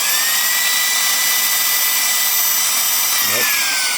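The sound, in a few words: Reikiya mini handheld cordless vacuum cleaner running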